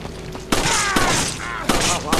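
Gunshots in Resident Evil 5: four sharp, loud shots fired at an uneven pace, each cracking out with a short ringing tail.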